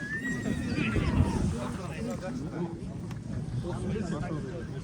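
A horse whinnies at an outdoor livestock market in Talas, where foals are being traded, heard at moderate distance amid a busy crowd with people talking throughout.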